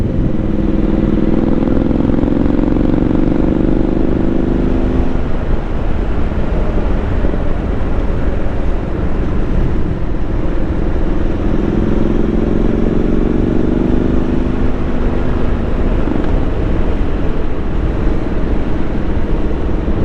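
Exhaust note of a Triumph Street Scrambler 900 on the move, picked up by a helmet-mounted microphone. A steady, loud engine drone is overlaid with wind, and the pitch rises twice as the throttle opens.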